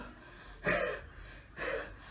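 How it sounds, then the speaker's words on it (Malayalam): A person gasps for breath as if suffocating: two sharp, strained, breathy intakes about a second apart, close and alone against a quiet background. "ശ്വാസം മുട്ടുന്നല്ലോ."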